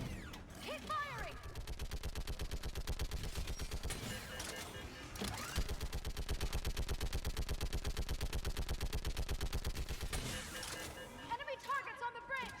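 Sustained automatic gunfire in Mass Effect 3, a loud, steady, fast rhythmic burst of shots lasting about ten seconds with a short break midway, with voices calling out around it.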